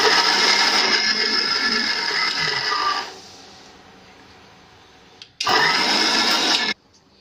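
A kitchen grinder whirs loudly for about three seconds while blending budgie soft food ingredients, goes quiet, then gives a second steady burst of about a second and a half before stopping.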